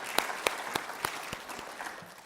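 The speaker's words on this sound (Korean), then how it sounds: "수고하신 우리 결산위원들께 우리 박수로 격려하도록 하겠습니다" A church congregation at a meeting gives a short round of applause. The claps are distinct and fairly even, about three per second, and taper off quickly.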